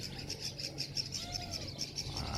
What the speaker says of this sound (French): Là, il y a des tourterelles et des colombes.